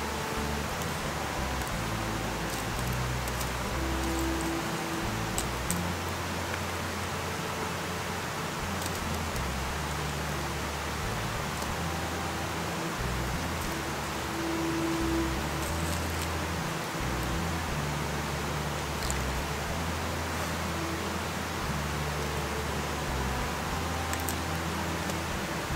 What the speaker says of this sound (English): And we got rain again